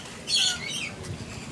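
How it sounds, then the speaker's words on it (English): Lorikeets flap their wings in a quick, close flurry with a brief high chirp at the start, then the fluttering trails off over soft background noise. "Look at that bird."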